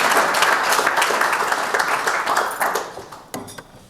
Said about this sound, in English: Can y'all clap it up for